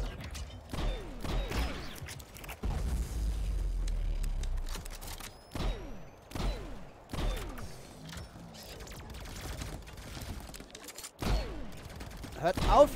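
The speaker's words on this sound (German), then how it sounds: "Hört auf mich zu schießen." Repeated bursts of game gunfire crack out across the clip, some in quick volleys, with clicking mechanical sounds and a voice talking in between.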